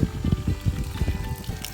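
Water pours and trickles onto potted plants in short splashing bursts, faint and close, with no voices.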